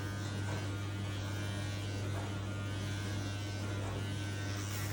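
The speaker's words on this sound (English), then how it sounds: "And now we're gonna go in with our clipper again." Electric hair clipper fitted with a 4 guard, lever open, debulking hair during a mohawk fade at a barbershop; a steady, close buzzing hum runs unbroken throughout with no talk.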